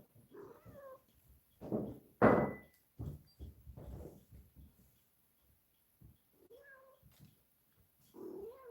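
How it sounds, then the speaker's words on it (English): House cats meow and yowl in short separate bursts at feeding time in a kitchen, one loud close cry standing out, with a door bumping and quiet gaps between calls. "it's a meowing going on because my daughter's feeding the cats"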